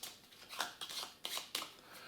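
Quiet riffling and snapping of playing cards being shuffled, several short bursts in quick succession, close and soft.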